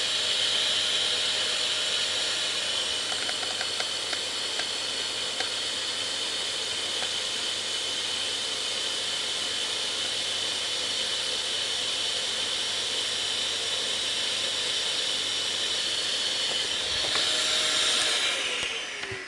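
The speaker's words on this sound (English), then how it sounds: "Vacuum's running at mid power." A constant loud roaring hiss of a CNC vacuum table motor running steadily at mid power throughout, with a slight change in tone near the end.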